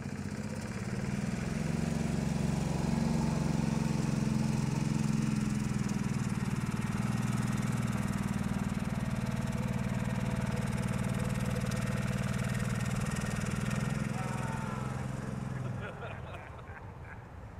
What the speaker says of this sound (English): Engine starts up, runs fine.